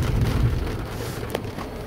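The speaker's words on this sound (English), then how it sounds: "Look at all that rain." Summer rain falls in a steady, dense wash, close by, with a low rumbling underneath and a brief sharper tap near the end.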